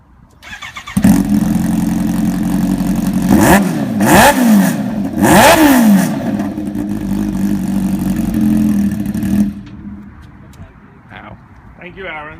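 A Kawasaki Ninja H2 motorcycle engine fires up loud and close, then settles into a rough idle broken by three sharp revs that climb and fall. It runs steadily for several seconds before cutting off, leaving faint background noise.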